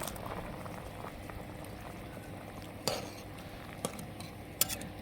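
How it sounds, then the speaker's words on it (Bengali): Tomato and potato curry with tengra fish bubbles at a steady boil in a covered pot, a soft continuous gurgle broken by a few sharp clinks of lid or utensil, close by with no talking. "তরকারিতে বলক এসেছে"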